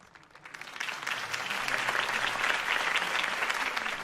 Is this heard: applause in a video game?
yes